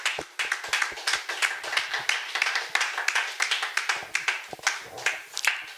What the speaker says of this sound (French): On applaudit puissamment pour le Seigneur encore.